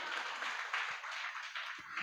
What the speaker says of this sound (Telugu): ఇక్కడ చప్పట్లు కొట్టండి గట్టిగా.